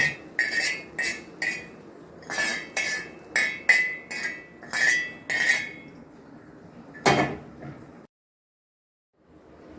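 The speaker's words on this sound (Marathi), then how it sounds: "आता भरडलेल्या पोतात टाकतोय आणि पिठी दळून घेतोय" Roasted grain being ground into flour on a hand-turned stone mill, heard as a steady series of sharp, scraping knocks in uneven rhythm, fairly close and loud, then a last heavier clack before a brief silence.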